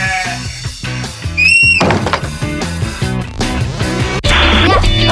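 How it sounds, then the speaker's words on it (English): Over a bouncy musical backing, a sheep baas once, fairly loud and close. "Did you hear a baaing noise?"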